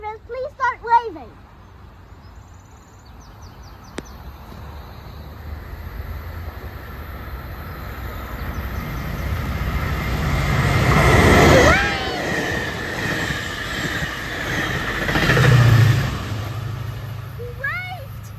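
A Metrolink commuter train passes through Irvine railroad station, its rumble swelling from a distance to a loud close roar and then easing, with people chatting nearby at the start and end.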